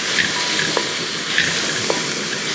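Tomatoes and green chilies fry in a pan with a steady broadband sizzle, while a spoon scrapes and stirs through them a few times, close and fairly loud.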